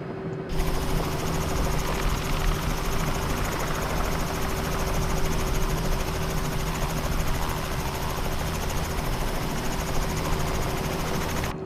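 A Robinson R66 helicopter in a flight simulator game drones steadily in flight, a constant loud turbine whine with a fast rotor chop that holds unchanged throughout with no one talking.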